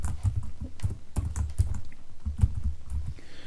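Rapid keystrokes on a computer keyboard while working in an Excel spreadsheet, a steady close patter of key clicks with sharper taps like the Enter key standing out, alone without talk.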